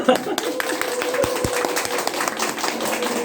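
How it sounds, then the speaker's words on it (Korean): An audience at a lecture claps briefly, a short patter of hands heard up close, with a voice speaking over it. "박수 한 번만 치고 시작할까요?"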